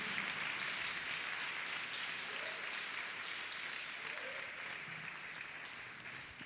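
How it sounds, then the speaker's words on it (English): A church congregation claps hands together during worship, a dense, steady wash of applause that holds from start to finish and fades slightly toward the end. "Clap hands for Jesus."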